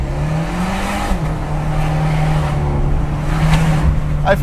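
An Abarth 124 Spider sports car drives between buildings with a loud, steady engine drone close by, its pitch holding fairly even with a slight dip and rise, a few faint background noises.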